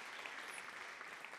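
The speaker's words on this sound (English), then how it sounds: "Can we give her a round of applause?" Steady audience applause fills a choir concert hall, a dense continuous patter of clapping with no pauses, fairly loud and even throughout.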